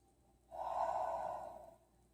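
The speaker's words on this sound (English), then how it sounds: "taking 3 nice deep breaths here" A single slow, deep breath during a yoga hamstring-release practice, one long soft airy breath lasting over a second, close and quiet, with no talking.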